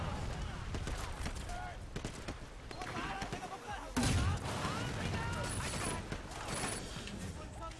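Grenade launcher fire in Sleeping Dogs, a mix of shots and a heavy blast near the middle among busy game noise and crackling, with voices talking at times.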